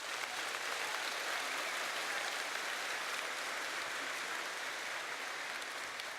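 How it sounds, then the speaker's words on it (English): A large audience applauds student speakers at a school district convocation, steady dense clapping filling the hall evenly for several seconds with no voices. "Let's give one more round of applause for our student speakers."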